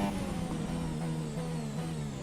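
A Formula 1 car engine in the F1 2017 racing game holds a steady high-pitched whine at speed, moderately loud and alone for a couple of seconds.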